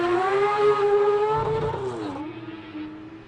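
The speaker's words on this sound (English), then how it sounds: "the Mazda RX-7 Rotary, one of my favorite cars ever, and the sound of this thing is just magical" A Mazda RX-7 rotary race car at a hillclimb screams at high revs nearby, its buzzing engine note holding and then dipping and fading as it pulls away, heard alone with no talk.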